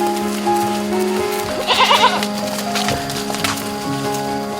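Goats tended at a household bleat at close range over a busy background that may include other voices, with a louder cluster of bleats midway.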